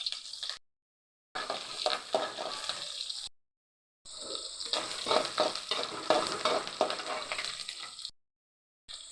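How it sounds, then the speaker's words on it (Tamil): Sliced onions and curry leaves frying in oil for drumstick chicken curry: a crackling sizzle with scattered stirring scrapes, cut by several short silent gaps, and no talking. "150 கிராம் வெங்காயம் அரிஞ்சு வச்சுருக்கேன், போட்டுக்கலாம். கருவேப்பிலை போட்டுக்கலாம்."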